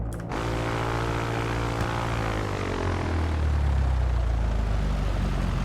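Simulated Cessna Skyhawk piston engine during a magneto check in X-Plane 11: a steady propeller-driven drone that rises in pitch, then settles into a lower, rougher hum, loud and close with no talk.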